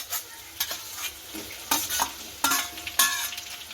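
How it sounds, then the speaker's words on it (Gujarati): Chopped onions and tomatoes sauté in oil in a pan for a cashew curry, giving a steady close sizzle broken by several sharp scraping stirs of a spoon. "તો કાંદા બ્રાઉન કલરના થાય ત્યાં સુધી આપણે તેને સાતળવા દઈશું"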